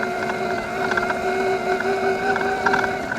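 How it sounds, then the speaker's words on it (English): An Evoltrix X7 electric dirt bike rides through grass with a steady motor whine and tonal drone, plus wind buffeting and small mechanical rattles. "I'm riding through grass."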